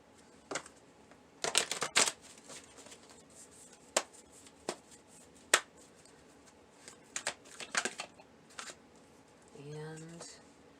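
Tarot cards being shuffled by hand in quick riffling bursts and scattered single flicks, close and fairly quiet, with a brief low rising tone near the end.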